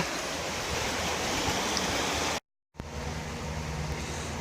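A river rushes steadily where it splits in two, a loud broadband wash of flowing water that cuts out abruptly for a moment before resuming.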